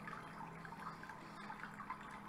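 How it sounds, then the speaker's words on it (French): Water trickling and sloshing at a stream in Medieval Dynasty while a character drinks, a soft, continuous babbling with gentle splashes, fairly quiet and steady. "peut en profiter pour boire un petit coup dans le ruisseau."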